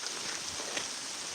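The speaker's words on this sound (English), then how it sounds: "it did say it was going to be pouring with rain" Steady rain pours down outdoors during a stroll, a dense, continuous hiss of drops on surfaces filling the short moment at an even level with no talk.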